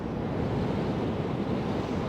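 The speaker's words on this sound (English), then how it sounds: "It's really windy." Steady, loud wind roaring across the microphone on Brean Beach by the Bristol Channel, a continuous broadband rush with no pauses and no voices.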